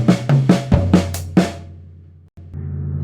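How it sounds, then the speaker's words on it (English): A drum kit played with split double strokes between toms, hi-hat and snare: about six sharp, close hits in quick succession, followed by a long ringing tom decay that fades out. "So the first part will go mid tom to snare with your right hand,"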